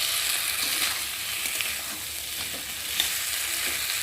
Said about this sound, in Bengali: একটু ভালো করে নেড়ে চেড়ে নেবো।